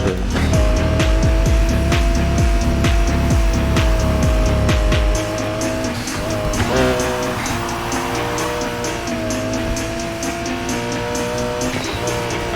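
A car drifting in the video game Need for Speed Heat: a loud revving engine with rhythmic gear surges, then long sustained tire squeal and skidding as the car slides, with no talking.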